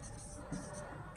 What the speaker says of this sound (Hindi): इसको हम रेड पेन से लिख रहे हैं